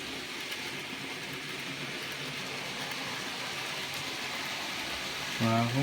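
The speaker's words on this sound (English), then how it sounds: "Just got a coal train coming down with a 9F on the front." A steady rumbling, rushing noise of a model coal train hauled by a 9F locomotive running along a layout track, continuous and even, with a brief tonal hum at the end.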